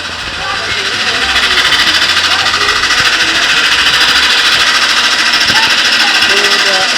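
Steady, loud mechanical drone of shea nut crushing and milling machines running together in a processing room in Tamale, a dense continuous rattling hum throughout with no pauses.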